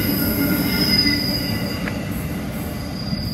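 A Sydney suburban train runs past the platform at Rhodes station, its wheels squealing in steady high-pitched tones over a continuous rumbling roar, loud and close throughout.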